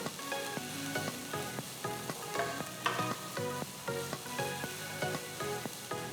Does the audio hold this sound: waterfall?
no